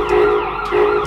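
An ambulance siren on its wail setting, a loud close continuous tone sweeping smoothly up and down in pitch, heard alone with no voices.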